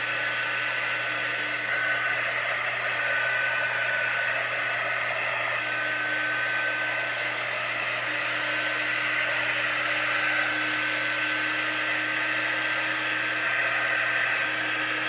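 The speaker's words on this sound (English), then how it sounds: "I'm just running the dry tool over it" A heat drying tool blows continuously over a chalk craft project, a constant steady whooshing hum with a low motor drone, near and unchanging for the whole stretch, with no talking.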